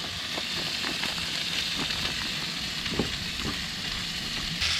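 Calamari squid, salted and coated in corn flour with a little ginger, frying in a pan with a steady, close sizzle and scattered crackles and pops throughout.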